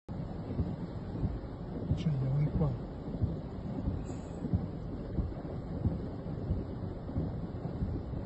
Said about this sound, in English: a powerful thunderstorm swept across Rome, Italy, bringing torrential rain, stormy winds and lightning